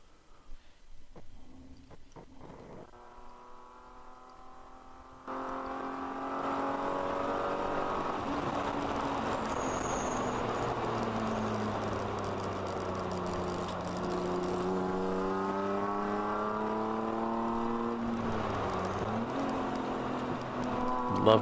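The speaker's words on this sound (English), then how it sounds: "Love me some BMW engine noise." A BMW race car engine at a ChampCar endurance race at Lake of the Ozarks drones loudly and steadily, its pitch gradually dropping and climbing through gear changes, with faint commentary in the background.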